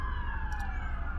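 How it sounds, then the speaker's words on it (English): Emergency vehicle sirens wail steadily outside, a sustained tonal sweep carrying over a low background rumble, heard alone for a moment. "there's a lot of sirens today"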